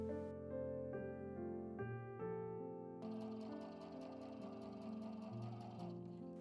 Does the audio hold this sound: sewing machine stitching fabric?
yes